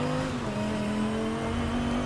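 A Dodge Viper SRT GTS Anniversary Edition 2013 in a video game, fitted with a Peugeot 7.7-litre V12 and rear-wheel drive, holds a steady, loud engine drone at a nearly constant pitch throughout, with no voices.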